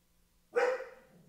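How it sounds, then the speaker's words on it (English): A dog gives a single close, loud bark after a moment of quiet, the sound trailing off briefly, with no voices around it. "My dog's going to bark because the neighbor's dogs are barking."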